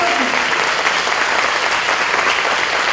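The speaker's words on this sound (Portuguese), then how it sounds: "pode dar a melhor salva de palmas a esse Deus maravilhoso?" Loud, sustained applause from a large church congregation during a worship service, steady clapping filling the whole stretch without pause.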